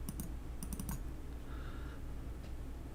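Computer mouse clicks while drawing segments in SolidWorks 2016: a few crisp, close clicks in quick pairs and clusters, then quiet room hum.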